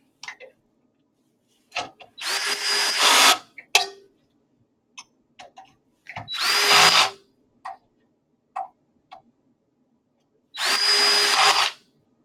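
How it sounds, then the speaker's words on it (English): A power drill snugs up screws in three bursts of close, loud whirring, each about a second long, with small clicks and handling taps in the quiet gaps between. "Lightly snug up the 6 screws that you took out."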